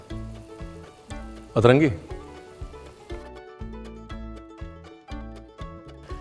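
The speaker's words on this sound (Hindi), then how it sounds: "एक तरफ धीरे धीरे मसाले भुन रहे होते हैं, एक सिमरिंग का म्यूज़िक चल रहा होता है पीछे" Masala and curd roasting slowly in a pan with a soft continuous sizzle, heard beneath background music and a brief spoken word.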